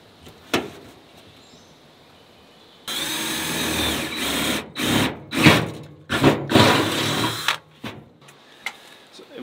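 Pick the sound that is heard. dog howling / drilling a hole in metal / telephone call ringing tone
drilling a hole in metal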